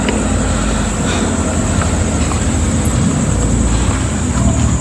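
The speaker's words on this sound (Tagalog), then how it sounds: "Yan guys, may dumadaan na truck. Kaya naririnig nyo, truck yun." A heavy truck passing by a cemetery rumbles steadily nearby, its low engine drone filling the whole stretch without pause.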